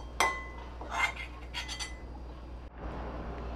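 Metal spoon clinking against a steel mixer jar as hot cooked onion mixture is scooped in, a few sharp clinks and scrapes at close range with quiet pauses between.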